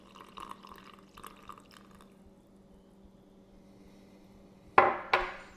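Water is poured into 30 grams of plain white flour: soft background noise, then two short, close splashing bursts near the end.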